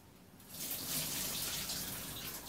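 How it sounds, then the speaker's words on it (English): Kitchen faucet turned on while cooking cold noodles: quiet at first, then water starts running and keeps splashing steadily into the sink, close by and alone. "Okay, go ahead and turn on the faucet."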